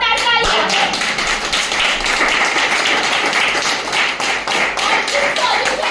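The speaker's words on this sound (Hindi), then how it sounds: "जोरदार तालियां।" Loud, dense applause from an audience at a product presentation in a hotel hall, with continuous clapping sustained at full level and no voice over it.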